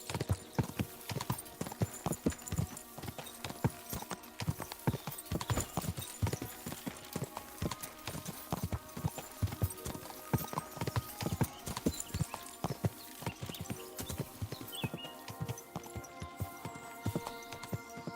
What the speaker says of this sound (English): the guy walking down the road directly in the path of a horse at full sprint